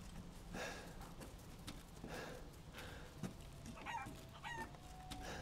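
Chickens clucking and fowl calls in Resident Evil Village, scattered soft clucks over a steady low ambient background with a faint crow-like call near the end.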